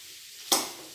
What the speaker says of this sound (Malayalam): ഉരുളക്കിഴങ്ങ് ആഡ് ചെയ്ത് കൊടുക്കും. ഇത് നന്നായിട്ട് അങ്ങോട്ട് യോജിപ്പിക്കുക.